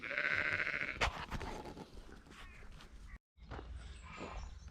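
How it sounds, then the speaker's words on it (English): Sheep bleat repeatedly on a farm around feeding time, with several calls close by over rustling and footsteps, and a brief gap of silence midway. "sheep are all right, they got plenty of grub"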